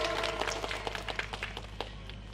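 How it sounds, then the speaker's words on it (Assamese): Audience applause for a prize winner at a dance competition prize distribution, a dense patter of clapping with scattered sharper claps, steady and moderately close throughout the short burst. "এতিয়া জোৰদাৰ হাত চাপৰি অচিন শইকীয়ালৈ"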